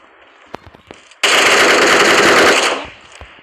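A sustained, very rapid burst of automatic gunfire in the PUBG Mobile shooter game, loud and dense for about a second and a half, preceded by a few scattered single shots and followed by fading echoes.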